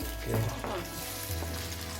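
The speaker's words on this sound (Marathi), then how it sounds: "आता तेलामध्ये मिरची झालेली आहे" Green chilies and onion sizzle and crackle steadily in hot oil in a kadhai, a brief burst of louder frying near the start, with no talking.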